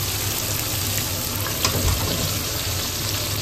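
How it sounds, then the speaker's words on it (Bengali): Onions drop into hot oil in a wok, giving a loud, continuous sizzle with a brief burst of crackling partway through. "তেলটা হয়ে গেছে গরম, এর মধ্যে দিয়ে দিচ্ছি পেঁয়াজ"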